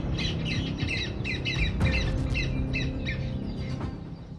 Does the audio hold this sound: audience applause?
no